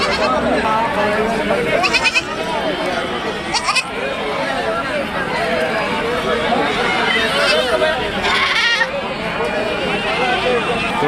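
Goats bleat repeatedly at a busy goat market, loud calls rising over a constant babble of crowd chatter and nearby talking voices.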